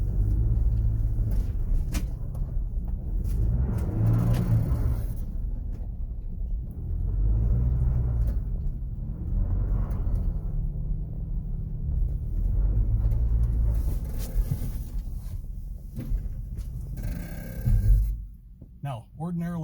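A Ford Bronco makes a higher-speed turn on a dirt trail, its engine a low rumble that swells and fades in repeated waves, with voices talking over it and some scraping toward the end.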